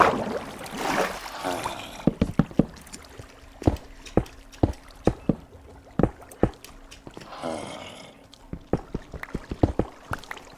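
Repeated sharp splashes and water sloshing in Minecraft, irregular and close, with brief bursts of noise between them; no voices are heard.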